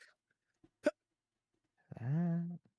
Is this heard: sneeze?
yes